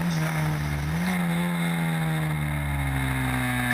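Historic Formula Ford single-seater race cars at Oulton Park in 2014, with a steady, loud engine drone whose pitch rises then holds through a corner, continuous and close.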